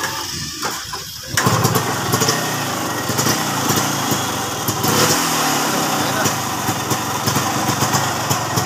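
A Kawasaki HD3 motorcycle engine with a carburetor overflow issue sputters briefly, then catches and runs at a steady, loud, buzzy idle; voices are heard faintly in the background.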